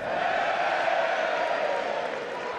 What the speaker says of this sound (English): the ribald cheer there from the Ulster fans